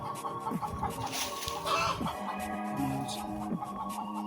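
A flock of backyard chickens kept by a household clucks noisily at close range, overlapping calls and short squawks piling up in a busy, continuous chorus.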